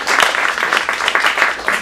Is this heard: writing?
no